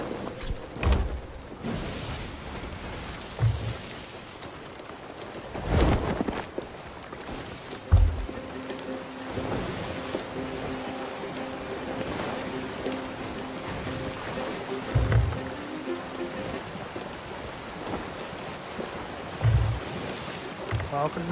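A ship sails across ocean waves in the pirate game Sea of Thieves, with a steady wash of water and wind, occasional dull thumps and a faint tonal hum, while voices come and go in the background.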